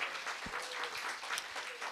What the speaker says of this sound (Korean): 여러분들 박수로 한번 맞이해 주시고